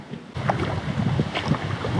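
A small boat pushes through shallow water on a river. Wind buffets the microphone in a steady rush, with faint splashes and water movement close by.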